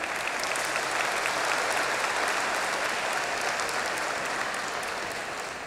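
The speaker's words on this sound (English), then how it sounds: "that must have been my father clapping" Audience applauding at a university graduation ceremony in Vietnam, a sustained, even wash of many hands clapping in a large hall, gradually easing off toward the end.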